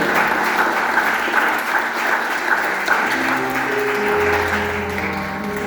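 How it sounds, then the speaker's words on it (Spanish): A church congregation claps together during worship, a steady, dense round of applause that fills the room for several seconds, with a low tone entering underneath near the end. "Denle palmas al Rey de Reyes,"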